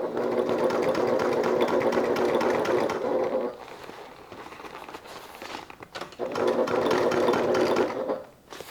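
Close sewing machine stitching on a crossbody bag: a long, steady run, a quieter stretch of light handling, then a second run of stitching before it stops. No one speaks.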